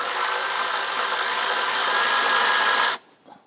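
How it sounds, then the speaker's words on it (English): A power tool spins off a 10mm nut on the rear passenger side of a 3.6L V6 Jeep Grand Cherokee: a steady, loud, close whirring buzz for about three seconds, then it cuts off, leaving faint clicks. "On the back passenger side here, we have a 10mm nut. I want to go ahead and loosen and remove that."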